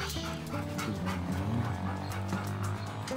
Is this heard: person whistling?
no